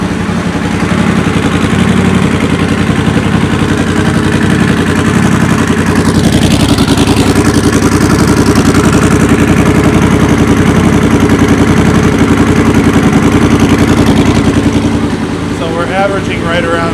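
A Triumph Scrambler 1200 XE motorcycle with a slash-cut silencer idles loud and close with a harsh, raspy, uneven rumble, around 101 decibels; a voice is heard briefly near the end.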